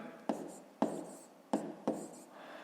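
A pen scratches out numbers by hand on paper during a fifth-grade math exercise, with four quick, distinct stroke bursts in an uneven rhythm, close and fairly quiet.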